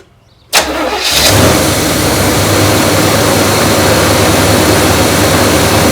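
A neglected 1972 big-block V8 cranks and catches abruptly, then holds a loud, steady roar as it revs and runs close by, with no voices.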